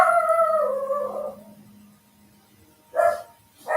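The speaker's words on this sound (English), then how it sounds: "if the dog's going to be like that, just a moment" A dog howls in a long, falling wail, then after a quiet gap gives two sharp barks, close and loud, with no talking over it.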